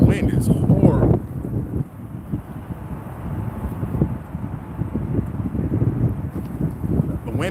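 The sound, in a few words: strong wind blowing at a fishing spot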